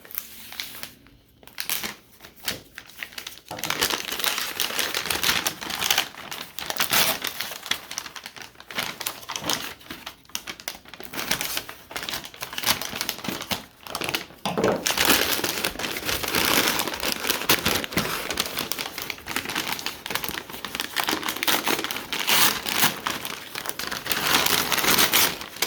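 Sturdy packing paper is crumpled and pulled out of a militaria parcel, close, loud crinkling and rustling bursts that continue almost without pause, with a brief quieter gap early on.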